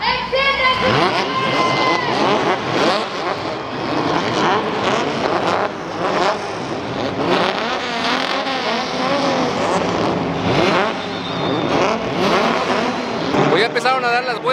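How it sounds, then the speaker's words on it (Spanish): NASCAR Mexico race cars on recognition laps at the Aguascalientes oval, loud engines roaring and swelling as cars pass repeatedly, with a person talking excitedly over the noise. "Pues ya empezaron a dar las vueltas de reconocimiento aquí en el óvalo"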